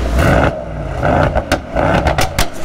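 A Mercedes-AMG car engine revs loudly and close by, with a few sharp throttle blips standing out over a steady roar.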